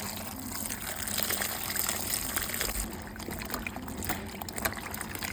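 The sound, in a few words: washing bottle gourd with water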